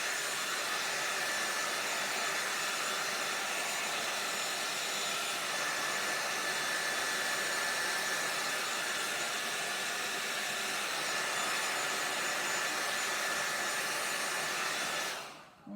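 A hair dryer blows steadily over a watercolor painting for about fifteen seconds, a constant close hiss and whir that cuts off abruptly at the end, with no talking.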